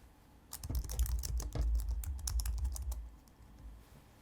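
Rapid, irregular clicking of keys on a Mac computer keyboard, fairly close and steady for a few seconds before tapering off.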